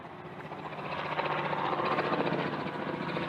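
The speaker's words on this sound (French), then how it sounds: "Bon, il y a encore un hélicoptère." A helicopter passing overhead, a steady broadband rotor and engine drone that swells slightly louder through the clip with no talk.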